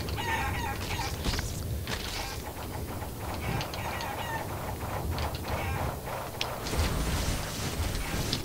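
Chicken clucks and squawks come from the Guacamelee video game while the player flies as the chicken, repeating choppy bird calls over busy game music and effects with no talking.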